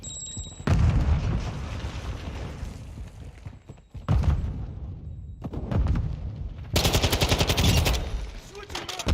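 Semtex grenade blast and gunfire in a shooter game, booming explosions and bursts of rapid automatic fire in several loud, close clusters.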